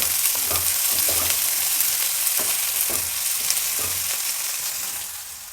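Onion and tomato frying in a pan for a buttermilk curry, a dense continuous sizzle with soft periodic scraping and stirring knocks, close and steady, no voices.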